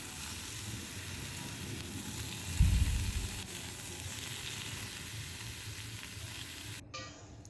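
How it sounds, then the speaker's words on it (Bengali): Potatoes and young jackfruit sizzle in hot oil in a pan, a steady quiet frying hiss with a brief burst of stirring scrapes partway through, no talk. "এবার আলুগুলো ভাজা হয়ে গিয়েছে, এঁচোড়টাও দিয়ে আমি ভালো করে একটু কষে নেব।"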